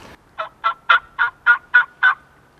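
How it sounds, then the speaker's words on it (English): A wild turkey hen gives a series of seven evenly spaced, loud, nasal yelps, each short and clear, with no other sound around them. "Usually when a hen yelps, it's just basically asking who's in the general area."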